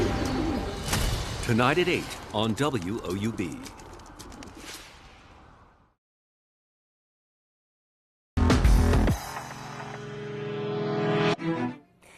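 Urban pigeons coo in soft repeating rolls, close and fairly loud, under a voice talking, before a gap of silence and then another voice with music.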